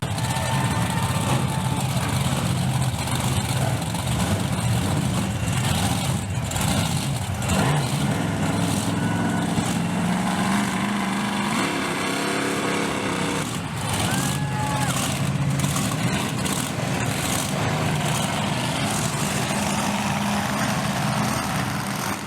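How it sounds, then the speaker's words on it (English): Monster truck engines fire up and idle at New Egypt Speedway during a summer show. The deep rumble is steady and sustained, with reversing beeps and the hiss of an air brake over a noisy outdoor crowd. "Gentlemen, start your engines."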